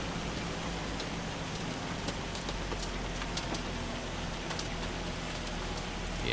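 Steady rainfall in the farming video game Farming Simulator 25, a dense continuous hiss of rain on surfaces with scattered droplet patters, heard alone without talk.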